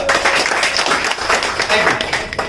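Audience clapping hands in a dense, steady burst of applause filling the room, loud and continuous, with voices audible underneath.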